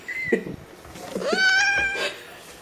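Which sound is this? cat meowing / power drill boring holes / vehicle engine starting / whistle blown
cat meowing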